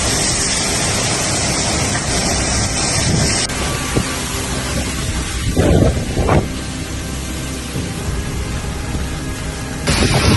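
Heavy rain in a fierce storm, a steady loud roar of downpour and wind with no letup, a couple of brief louder surges midway.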